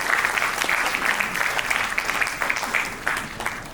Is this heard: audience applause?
yes